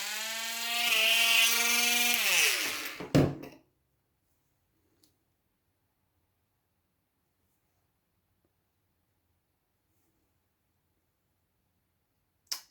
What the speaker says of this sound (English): there's the end of one bolt cut off